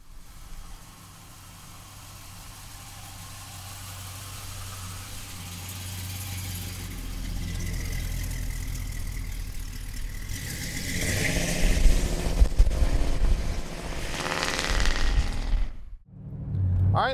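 A 1971 Chevrolet Monte Carlo V8 engine rumbles at idle, builds in a rising rev with throaty exhaust, briefly cuts, then picks up again; loud and close.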